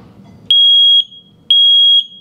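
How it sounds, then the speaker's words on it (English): A home carbon monoxide alarm blares two loud, piercing high-pitched beeps, each about half a second long and spaced evenly, in an otherwise quiet room. "we woke up at about 2:30 in the morning to the alarm screaming, literally screaming"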